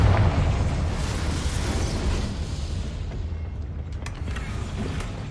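A Confringo blasting spell detonates in Hogwarts Legacy, a loud broad roaring blast that starts at full strength and rumbles on steadily before thinning out with a few faint crackles near the end.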